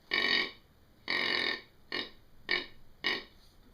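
A Brawler hunting game call is blown in five short, raspy, nasal bursts, the first two longer and the last three clipped, close and fairly quiet with no other sound between them.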